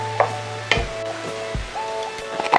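Chopped chayote drops into a hot pan for tuna lumpia and sizzles steadily, with a few scraping stirs and utensil knocks over a low background hum.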